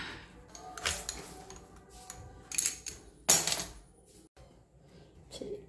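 A tool punches a hole in a tender coconut, giving a few sharp knocks and taps spaced a second or so apart, fairly close and without talk.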